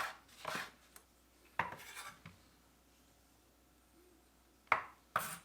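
A kitchen knife cutting up fresh chillies: a few quiet, sharp clicks and scrapes in small clusters, separated by near-silent pauses.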